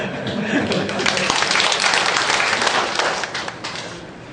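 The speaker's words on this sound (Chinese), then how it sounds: "家己鼓掌一下" Church congregation clapping together during a sermon, a burst of dense applause rising quickly, holding for a few seconds, then thinning out, with some voices mixed in.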